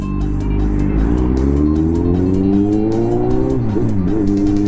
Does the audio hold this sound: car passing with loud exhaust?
yes